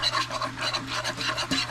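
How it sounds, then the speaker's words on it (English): A whisk scrapes rhythmically around a pan of roux, a close, steady raspy rubbing in quick repeated strokes over a low hum. "you want to keep whisking it so it does not burn."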